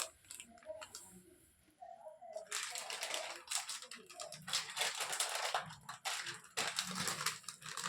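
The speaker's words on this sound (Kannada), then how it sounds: "ಫಸ್ಟಿಗೆ ಒಂದು ಲೇಸನ್ನ ಕಟ್ ಮಾಡ್ತೇನೆ" Crinkly crackling of a Lays chips packet being cut open, a dense rustle of plastic foil that starts softly and swells to a busy close crackle for several seconds, heard without talk.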